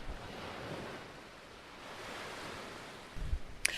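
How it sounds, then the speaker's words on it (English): Waves wash against the seashore on Kefalonia, Greece, a steady broadband surf wash blended with wind noise, ending in a few brief closer thumps and a sharp knock. "Can you hear the seashore?"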